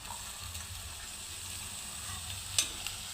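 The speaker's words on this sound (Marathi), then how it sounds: "आणि व्यवस्थित असा मसाले तिखट मीठ लागेपर्यंत परतून घ्यायचं आहे।" Broad bean pods sauté with spices, chilli and salt in a pan: a soft, constant sizzle with a faint low hum beneath it and one sharp utensil clink near the end, with no voices.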